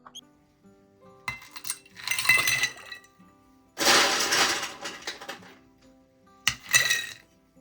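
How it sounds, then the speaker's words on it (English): Ice is dropped into a glass holding a hot tea candy cane cocktail. Several bursts of clinking and rattling cubes come up close and loud, with quiet pauses between them and no talk. "We're going to top this up with a little bit of ice."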